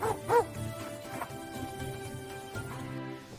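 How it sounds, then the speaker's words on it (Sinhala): A cartoon dog barks at night in a village: a couple of sharp, close barks near the start, then a quieter tonal background. "මේ මොකද මේ බලුරාලයා රෑමැද බුරන්න ගත්තේ?"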